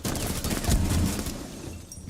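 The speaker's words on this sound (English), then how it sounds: "There's more gunfire going out between these teams." Dense gunfire rattles in a Rainbow Six Siege match, loud and close, with rapid overlapping shots that thin out after about a second and a half.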